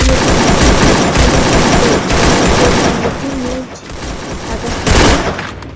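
Rapid automatic gunfire fills a mobile shooter game match, loud and nearly continuous with dense bursts and a few booms, close up and dominating the scene.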